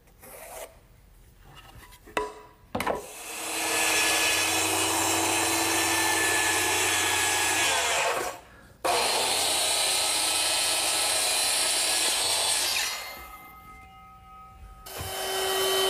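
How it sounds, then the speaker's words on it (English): A saw cuts 45-degree angles through a 1x12 board in two long, loud, steady cutting runs separated by a short pause, with quieter handling noise before and after. "now that I've cut one, I can use it as a pattern to cut the remaining 3"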